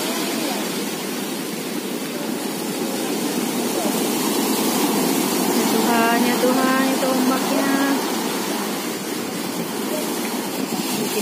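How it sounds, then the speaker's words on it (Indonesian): Ocean waves wash steadily onto a quiet beach at Pelabuhan Ratu, West Java, a constant broad roar with no clear breaks, while a voice talks faintly over it partway through. "damai banget ngedenger suara ombak kayak gini"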